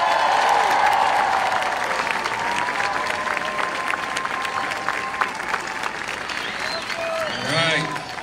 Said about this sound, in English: so give him a hand.